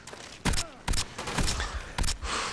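Shotgun blasts in a video game, four heavy booming shots at uneven intervals over a low background of game ambience, fairly close and sharp.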